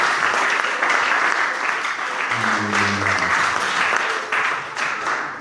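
A church congregation claps and applauds together to acclaim the Lord, producing dense, sustained applause with a short hum of voices rising in the middle.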